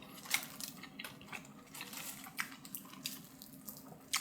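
Crispy Publix deli sub bread crunches close and quiet as someone bites and chews, giving a scattering of sharp crackly snaps over a soft background.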